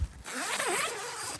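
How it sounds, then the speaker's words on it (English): A tent door zipper is pulled open in one quick, continuous rasping stroke lasting about a second, close and clear, after a brief soft rustle. "Zipper access here"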